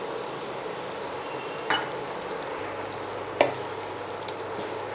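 Onion with ginger, green chilli and garlic paste frying in a pan, a steady soft sizzle throughout with two brief sharp clicks of a utensil, no voices.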